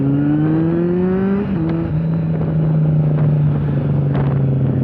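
A Kawasaki Z800 motorcycle fitted with an SC Project exhaust revs loud and deep nearby, its pitch climbing briefly before settling into a steady throaty idle with small blips.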